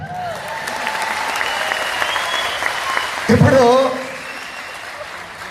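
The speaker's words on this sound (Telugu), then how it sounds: "కరెక్ట్ అయితే క్లాప్స్ కొట్టాలి" An audience at a talk on direct selling and network marketing claps steadily throughout, with a brief louder burst midway as a voice speaks over the applause.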